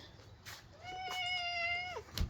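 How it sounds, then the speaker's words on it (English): A cat gives a single drawn-out meow, fairly close and clear, with a short sound at the end and no talk over it, somewhere near a Subaru Crosstrek being worked on. "He's a gentle kitty."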